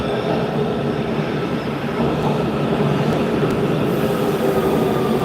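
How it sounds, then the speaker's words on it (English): Subway train pulling into a station, a steady loud rumble and roar of wheels and cars with faint squeals, continuous throughout and heard close up. "Here comes the train."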